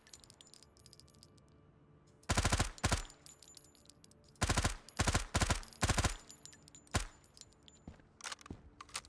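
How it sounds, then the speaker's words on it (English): Loud SVD rifle shots in the snowy survival game Road to Vostok, a single crack followed by a tight cluster of several rapid shots, then scattered fainter reports and ringing echoes over a quiet wintry background. "I will actually shoot my gun"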